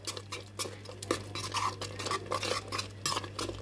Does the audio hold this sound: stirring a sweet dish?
yes